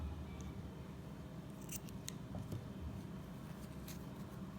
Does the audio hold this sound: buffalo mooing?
no